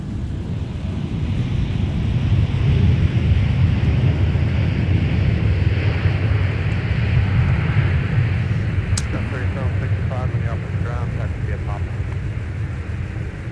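An airliner roars continuously as it takes off from runway 17 at MSP airport, a loud low rumble filling the whole stretch, with radio chatter and talk faintly over it near the end.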